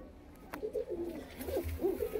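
White female pigeon with pale yellow eyes cooing in a few soft, low, rolling phrases close by, repeated at a slow, uneven pace with faint background noise and no talking.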